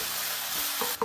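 Onion paste sautéing in a pan for a fish curry, giving a steady loud sizzle with stirring scrapes near the end, with no talk.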